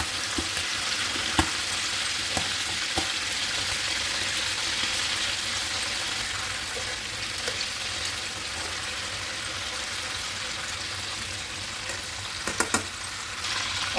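Chicken pieces fry in spiced oil in a pan, giving a steady, even sizzle and crackle throughout, with a few sharper pops and clicks of stirring, fairly soft and alone without any talk.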